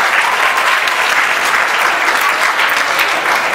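An audience at a student poetry competition claps loudly and evenly for a contestant. The applause is dense and sustained throughout, with no voices.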